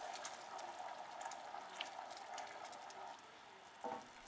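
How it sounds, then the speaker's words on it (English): Maple syrup boiling and foaming in a pan, a steady soft bubbling and fizzing hiss heard close up and fairly quiet, with a small clink near the end. "A few minutes later and we have lots of foam that I can't stir away."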